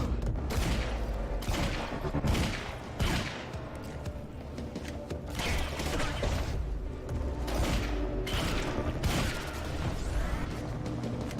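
Gunfire in the Quantum Break video game, repeated bursts of shots over a busy game soundtrack, loud and continuous with irregular spacing.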